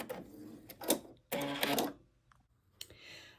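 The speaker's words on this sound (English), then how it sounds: "And then I'm just going to sew it right off the edge." Sewing machine stitching the end seam of a fabric bench pillow in short bursts of rapid mechanical whirring, the longest about half a second, close and fairly quiet with pauses between runs.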